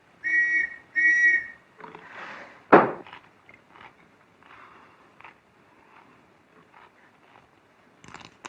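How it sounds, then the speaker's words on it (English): A shrill whistle blows two short, loud blasts close by, followed by a sharp bang and faint scattered rustling, with a few quieter knocks near the end. "The whistle that was blowing just now."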